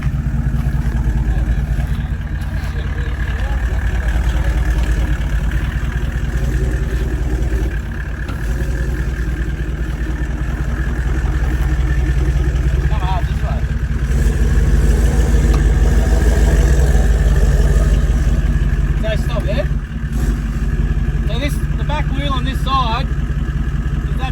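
An off-road vehicle's engine drones loud and steady at low revs, clunking and clattering as it crawls over rough ground with the rear locker engaged, while someone talks over it throughout.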